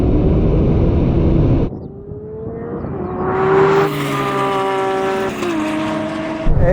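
A Porsche 911 Turbo S launches in a drag race against a Lamborghini SVJ and McLaren 720, a loud engine cut off abruptly, then rising gear-stepped whines climbing and shifting as the car pulls away.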